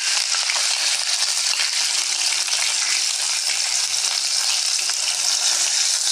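Peanuts frying in oil in a pan, a steady close-up sizzle and crackle that runs unbroken throughout without talk.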